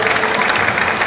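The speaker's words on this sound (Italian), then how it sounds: "Facciamo un applauso agli atleti" A crowd at a Muay Thai fight night applauds the athletes, a brief dense wash of clapping at steady loudness.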